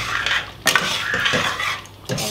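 A utensil stirs kaffir lime leaves into thick beef rendang in a pot, with a few clinks and scrapes of metal against the pot, close and alone.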